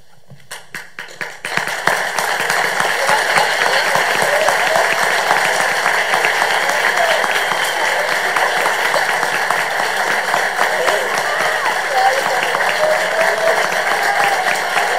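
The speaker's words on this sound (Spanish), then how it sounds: "Un aplauso y el reconocimiento para la compañía de teatro del Instituto Chacabuco con su presentación de Marat" An audience in a school theatre breaks into loud, sustained applause after a student company's performance, the dense clapping swelling in over the first two seconds and then continuing steadily and evenly.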